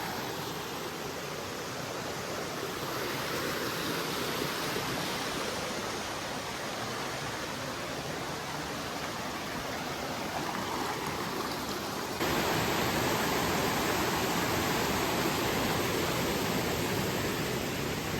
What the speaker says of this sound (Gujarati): પાણી વહેતું જાય ધીરે ધીરે